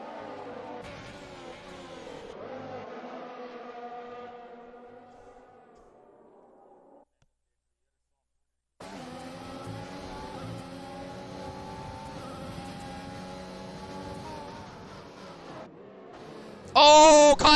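Racing Point and AlphaTauri Formula 1 cars in an Xbox racing game at the Chinese Grand Prix, with high engine whine rising through gears, a brief drop to silence, then renewed engine drone and a sharp burst at the end.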